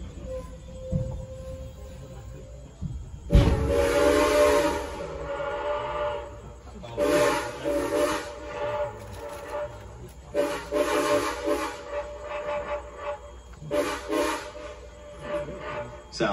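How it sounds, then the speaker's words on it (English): A Strasburg Railroad steam train sounds its whistle at Carpenter's Crossing, several long and short blasts fairly close over the rumble of rolling cars. "we'll actually stop here to blow our whistle at Carpenter's Crossing"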